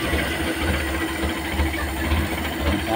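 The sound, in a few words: engine idling after carburetor reinstalled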